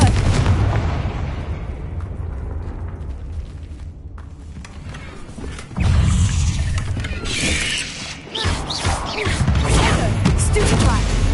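The Confringo blasting spell in the Hogwarts Legacy video game: heavy booming explosions and crashing impacts in a dense, loud battle mix, with a rumbling lull in the middle before the blasts resume.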